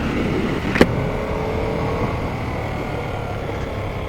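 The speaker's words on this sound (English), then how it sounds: "The exhaust actually sounds kind of cool." A Harley-Davidson Sportster S motorcycle's exhaust drones steadily while riding, with a brief sharp click early on and constant road and wind rush throughout.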